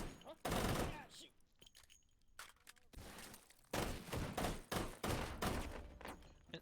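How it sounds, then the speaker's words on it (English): An auto shotgun fires in a video game in several rapid bursts of booming blasts, with short gaps between them. The shots are fairly loud against quiet background audio. "An auto shotgun"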